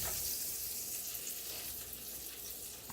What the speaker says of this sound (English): My mushroom is sizzling. It sounds fantastic.